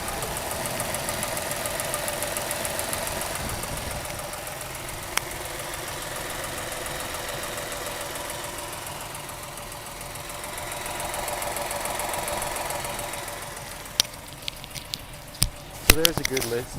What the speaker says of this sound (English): I'll get the microphone down by the engine itself, and we can get a good listen to it running as it idles.